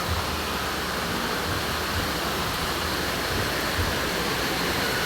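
Steady, loud roar of falling water at the top of Twin Falls, a dense continuous rush with no breaks and no voices, close and unchanging throughout.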